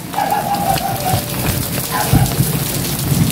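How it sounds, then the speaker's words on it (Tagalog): Steady rain pours down on a surface during a storm in Batangas, a dense constant hiss with a low rumble of thunder swelling briefly midway, fairly loud and close with no talk over it. "Ayan po, may kulog at hidlat."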